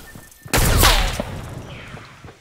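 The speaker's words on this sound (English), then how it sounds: "Now shoot the gun, not at me though, not at me, and just shoot this wall." Semi-auto sniper rifle in Fortnite fired at a wall: a loud, close crack with a booming burst and lingering rumble, followed by fainter scattered noises, with no talking.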